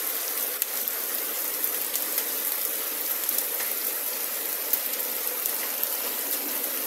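Heavy rain falling steadily, a constant hiss of drops with scattered sharper ticks of impacts on surfaces, moderately loud and without speech.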